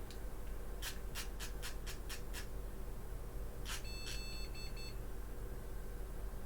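Computer motherboard POST error beeps during a RAM test: a run of short, evenly spaced high beeps, followed by a pause and two more beeps, clear against a steady low hum with no talking.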